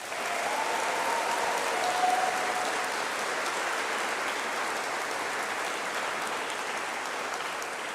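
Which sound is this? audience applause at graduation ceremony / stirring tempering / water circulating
audience applause at graduation ceremony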